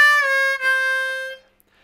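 A single steady blown note on the four hole of a C blues harmonica rings clearly for over a second with a brief dip partway through, then stops; close and unaccompanied.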